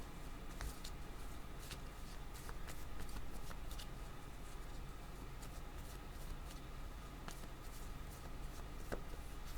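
Tarot cards are shuffled and drawn in a quiet room, giving soft, close, rapid riffling and flicking with scattered light taps, faint overall and steady throughout.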